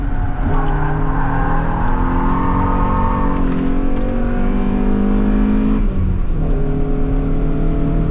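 A BMW E30 M3 engine drones loudly from inside the car on a hot lap at Istanbul Park, revving high and holding pitch, then shifting down and climbing again, sliding in third gear.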